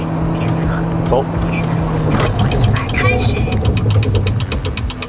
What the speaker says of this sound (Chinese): 轮胎响的还是挺厉害的